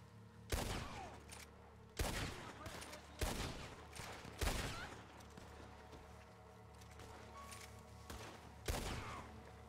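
Gunfire in the Red Dead Online video game during a moonshiners session: several loud, sharp shots ring out at uneven intervals, each with a short echoing tail, over a low ambient backdrop.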